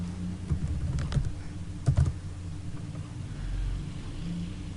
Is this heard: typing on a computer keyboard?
yes